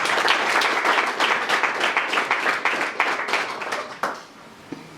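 A crowd at a Musanze FC football club presentation claps for the club president, dense lively applause that thins and fades out near the end, leaving a lone clap.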